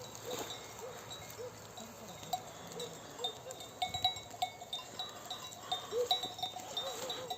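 Sheep and lambs bleat intermittently in an alfalfa field against a busy outdoor background, with a bell clanking faintly now and then.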